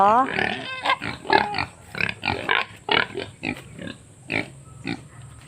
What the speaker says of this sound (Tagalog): Asa kayo yung isang biik na itim.